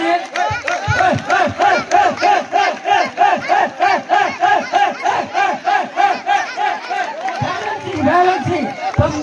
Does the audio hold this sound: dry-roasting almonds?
no